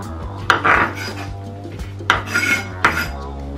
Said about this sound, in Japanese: 玉ねぎは普通にこう薄くスライスすればいいと思います